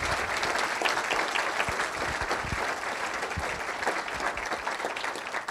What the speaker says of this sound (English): get a good hand clap going for the districts that were represented here today